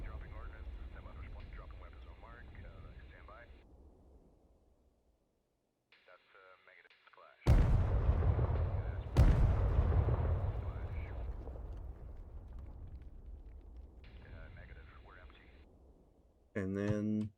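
Airstrike bombs in the video game Operator, two heavy explosions in quick succession with deep rumbling decay, between stretches of radio-filtered voices talking.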